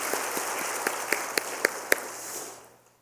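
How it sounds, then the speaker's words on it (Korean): A church congregation at a Wednesday worship service applauds in thanks to the pastor, a dense spread of clapping with a few sharper individual claps standing out before it fades away near the end. "오늘 귀한 말씀 전해주신 우리 유태광 목사님에게도 감사의 박수 하겠습니다"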